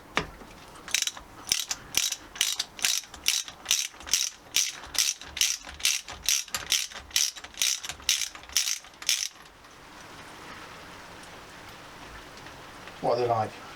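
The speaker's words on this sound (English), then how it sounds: "we're just going to pop the spark plugs out" Spark plugs come out of a motorcycle engine under a hand ratchet: a close, crisp run of about twenty evenly spaced clicking strokes, then quiet background with a short voice near the end.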